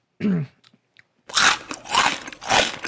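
Loud crunchy chewing and biting close to the mic: a brief bite, a pause, then three heavy crunching chews in a steady rhythm.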